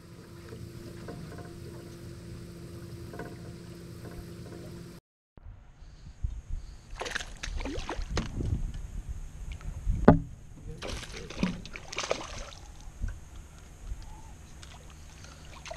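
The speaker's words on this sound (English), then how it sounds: "we're going to motor on down a ways and see if we can get out of the leaves" A fishing boat motors down a leaf-covered river during bass fishing. A low, steady motor hum runs for the first few seconds, then cuts out, leaving wind buffeting and scattered knocks and splashy rustling nearby.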